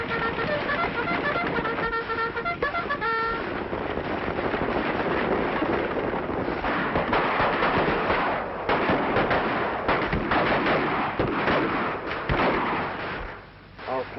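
Gunfire from a cavalry battle attack, a dense continuous barrage of shots and blasts sounding over a noisy battle scene, with a voice briefly heard.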